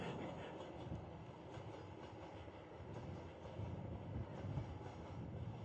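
A train passes near an outdoor election rally in Mankapur, Uttar Pradesh, giving a steady, continuous rumble with faint rhythmic clatter that swells slightly toward the end. No voices are heard.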